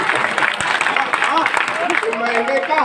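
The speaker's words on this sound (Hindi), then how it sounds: "तालियां बढ़िया जानी चाहिए।" Audience applause at a Hindi comedy poetry recital in Ayodhya, a crowd clapping steadily while a voice keeps talking over the clapping.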